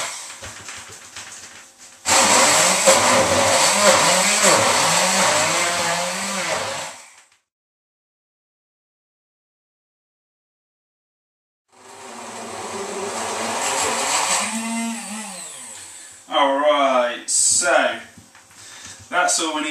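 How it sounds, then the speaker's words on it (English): A blender whirs loudly through a chocolate bar mixture in two long bursts separated by a silent pause, its motor pitch wavering as the load shifts, ending with short on-off pulses. "And then you need to blend it like there's no tomorrow."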